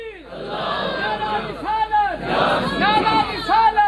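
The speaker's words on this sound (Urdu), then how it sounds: "ہاں یہ جوش والا نعرہ ہے" A crowd at a Shia religious majlis roars an enthusiastic slogan in unison, several loud swelling chants with rising and falling voices, close and full, answering a leader's call.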